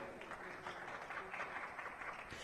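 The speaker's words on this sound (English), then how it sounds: "A round of applause once again for Anna Ryder." Applause from a conference audience at a Speak For Africa event: a soft, continuous wash of many hands clapping, heard at a distance and fairly faint, with no single clap standing out.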